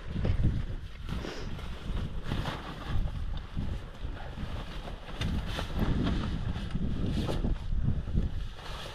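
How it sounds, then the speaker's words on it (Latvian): Wind gusts buffet the microphone out on the frozen ice of Lake Peipus during ice fishing, a steady rough rumble with fluctuating low roar and no talk. "Sāka sniegs snikt, vējiņš sāk celties."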